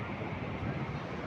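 Big ocean waves crashing along a shore, a steady dense roar of surf mixed with wind buffeting the microphone, continuous and loud with no distinct breaks.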